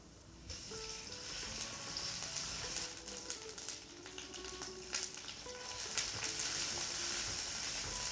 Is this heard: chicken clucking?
no